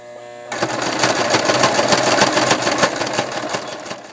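A sewing machine stitches a sweat jacket, starting abruptly after a brief pause and then running in a steady, loud, continuous whir with a fast mechanical rhythm.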